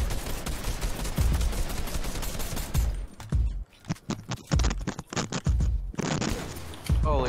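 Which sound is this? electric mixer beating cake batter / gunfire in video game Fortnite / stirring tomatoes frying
gunfire in video game Fortnite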